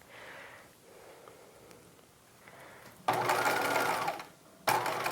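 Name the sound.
sewing machine stitching a circle skirt seam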